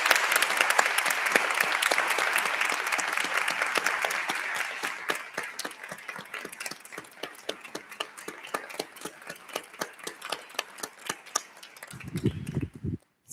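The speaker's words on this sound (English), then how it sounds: "please applaud our retirees" Sustained loud applause from an audience honoring retirees at a school board meeting, dense clapping that thins toward the end before a brief low voice at the close.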